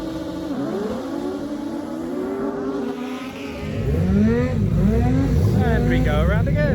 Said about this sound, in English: So these are called cross cars.